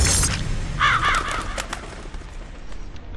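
Crows cawing in the stealth game Mark of the Ninja, a few loud harsh caws up close with a whooshing burst at the start, fading into a low ambient rumble.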